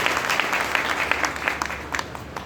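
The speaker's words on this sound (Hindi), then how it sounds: "एक बार शानदार तालियां" A crowd at a business seminar applauds, a steady rush of many hands with scattered sharper claps popping out, fairly loud and continuous with no speech over it.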